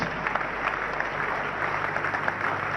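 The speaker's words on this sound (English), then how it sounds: "Shall we clap for wonderful Jesus Christ?" Congregation at a church service claps steadily together for Jesus Christ, a continuous dense patter of many hands filling the hall without pause.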